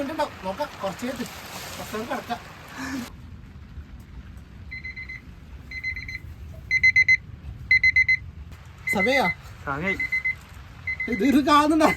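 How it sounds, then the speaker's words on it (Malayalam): An alarm clock set for two o'clock rings in short repeated electronic beep bursts, sounding alone between stretches of people talking before and after. "പിന്നെ രണ്ടടിക്ക് അലാറം വെച്ചിന് അലാറം അടിയുന്നുണ്ടല്ലേ"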